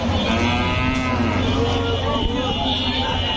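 A big Friesian dairy cow, giving 12 to 15 litres of milk, lets out a long, loud, steady moo at a busy Dupchanchia cattle market, with faint voices and crowd noise beneath.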